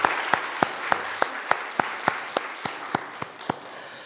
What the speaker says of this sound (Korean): 우리 다시 한번 영광의 박수 하나님 앞에 올려드리겠습니다.